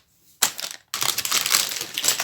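Plastic packaging for a 24-hole paint holder crinkles and crunches in close, loud bursts while being handled, a short burst first, then a brief pause, then a longer continuous stretch of rustling.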